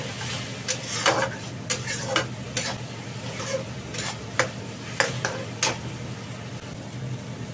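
A spoon stirs turmeric, coriander powder and cumin powder into sizzling tomato masala in a pan for paneer curry, making a series of scraping strokes at an uneven rhythm over a soft continuous sizzle, with no voices.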